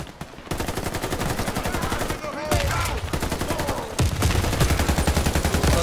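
Rapid automatic gunfire from the video game Warface, loud and close, with dense repeating bursts running almost continuously and a brief lull before firing resumes.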